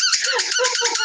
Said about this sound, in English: You get a frog squeak.